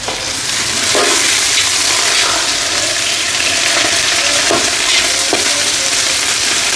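A large pot of biryani, made with 2 kilos of rice, fries loudly with a dense, continuous sizzle while it is stirred, and occasional scraping knocks sound through the hiss.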